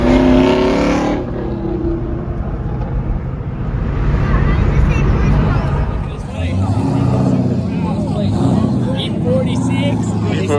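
Ford Mustang Mach 1 cars drive past with loud engine roar and a swelling, receding rush, mixed with crowd chatter and a voice talking.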